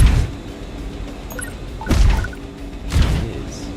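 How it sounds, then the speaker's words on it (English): Explosion effects from a space sim video game, two heavy booming bursts with a whooshing tail, separated by about a second, over a steady low background hum. "Is that the explosion sound?"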